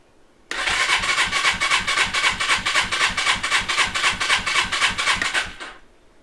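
Suzuki GS450 scrambler motorcycle engine held at full throttle with the choke off, a loud, close, steady pulsing roar that starts abruptly and cuts off near the end.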